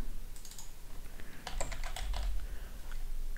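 A username and password are typed on a computer keyboard: a quick, soft burst of key clicks heard close up in a quiet room, with no talking.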